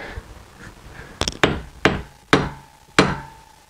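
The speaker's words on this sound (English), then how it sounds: "Hammer that down a little flatter" A hammer strikes a brass sheet to flatten it for a scale-model Cat D11N cab, giving five sharp metallic knocks at uneven intervals, close and loud, with a faint ringing tone after the later blows.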